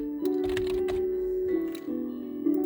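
Someone types 'import random' on a computer keyboard: a run of quick, close key clicks over a steady low hum, with no speech.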